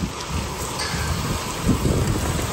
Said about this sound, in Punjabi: ਅਤੇ ਮੀਂਹ ਵੀ ਪੂਰਾ ਪੈ ਰਿਹਾ ਆ।